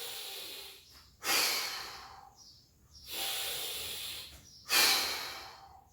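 Three deep, forceful exhales hiss out at a slow, even rhythm during an abdominal core workout, each separated by quieter inhales, close and clear.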